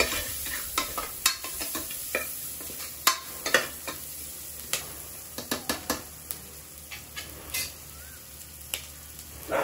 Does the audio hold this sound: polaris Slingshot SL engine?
no